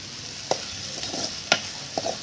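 Onions frying in a pan for an egg curry, cooked on a balcony: a steady close sizzle punctuated by three or four sharp spoon scrapes against the pan at roughly half-second intervals.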